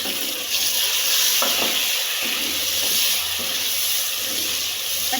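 Chopped tomatoes tipped into a pan of frying vegetables for vegetable rice and stirred, giving a steady loud sizzle and hiss with scraping stirring strokes, no voices.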